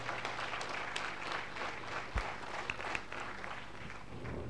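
At a university award ceremony, the audience applauds a recipient with a continuous, soft patter of clapping. It sounds distant and faint, with a low steady hum underneath.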